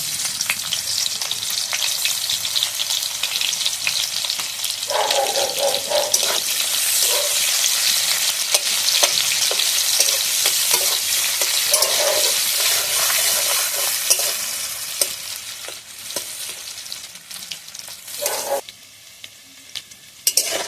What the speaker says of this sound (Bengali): পেঁয়াজটা আমি কুচানো পেঁয়াজটা ভালোভাবে একটু ভেজে নিয়েছি